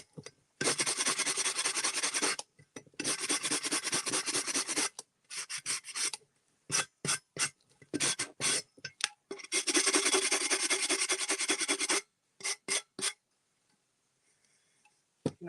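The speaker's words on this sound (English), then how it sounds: "I keep it flat and sand straight flat across the top so that I don't go into the side" Cured epoxy is sanded flat across the top of a piece in long, steady abrasive rasping strokes, close and loud. The strokes come in sustained bursts broken by pauses and shorter choppy passes, with no talking.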